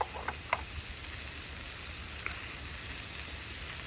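Bacon sizzles softly on a griddle, a steady fizzing hiss with a few faint clicks of a utensil near the start, no voices.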